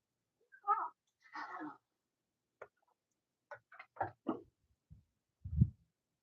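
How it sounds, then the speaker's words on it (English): A domestic cat, a snowshoe Siamese, meows a few short times indoors, fairly close and moderately loud, with quiet pauses between calls and a lower, brief sound near the end. "we have one of our kitties, Monkey."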